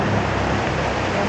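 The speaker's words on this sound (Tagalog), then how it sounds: "Bilang bumuhos yung lakas ng ulan." Heavy rain pours steadily during a habagat monsoon in the Philippines, a dense unbroken wash of close, loud noise with no pauses.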